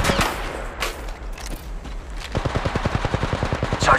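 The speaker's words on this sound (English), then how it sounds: "Getting shot at. They're shooting at me." Rapid automatic gunfire from a weapon in the shooter game Apex Legends Mobile, with a few scattered shots early, then a steady fast burst of loud, evenly spaced rounds, close and dominant.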